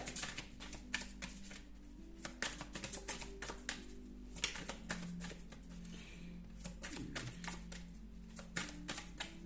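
Tarot cards drawn and shuffled from a deck, a quiet run of soft, rapid papery taps and flicks recurring in clusters, close and alone over a low steady hum.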